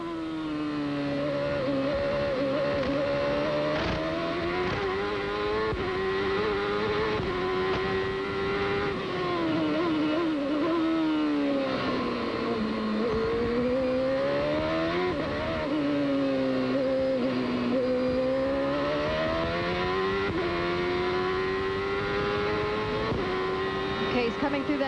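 A 1995 CART Indy race car driven by Robbie Gordon on an onboard lap of the Toronto street circuit, its engine screaming loud and close with rising and falling pitch through gear changes and corners, under a commentator's talk.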